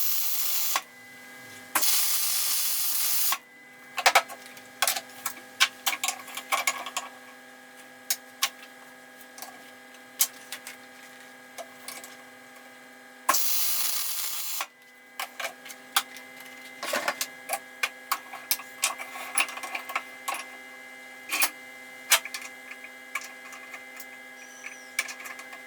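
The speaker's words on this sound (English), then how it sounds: "First I will weld" Welding on a damaged seat: two bursts of loud crackling hiss, then a run of irregular short buzzing pulses over a steady electrical hum, with no talk.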